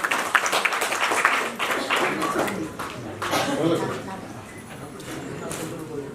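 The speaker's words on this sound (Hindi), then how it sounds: "एक बार जोरदार तालियां हो जाए सर के लिए" Audience at a foundation event breaking into applause, uneven bursts of clapping mixed with voices and chatter, moderately faint and fading toward the end.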